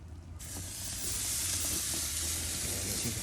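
A ribeye steak sizzles loudly on a hot grill, its steady, dense hiss swelling within the first half second and holding close and even to the end, with no talking.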